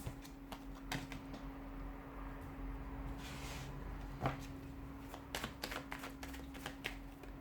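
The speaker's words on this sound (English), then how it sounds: "give the cards a shuffle," Tarot cards being shuffled by hand in a quiet room, a run of soft papery riffles and taps scattered through the clip over a steady low hum, close and fairly faint.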